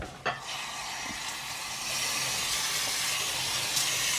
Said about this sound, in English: Just give that a quick rinse.